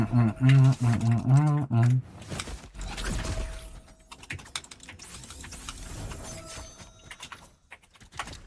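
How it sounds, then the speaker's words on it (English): Rapid clicking of computer keyboard typing runs beneath a voice during a gaming session, steady and fairly close, with a brief clatter partway through. "Can you guys hear my keyboard?"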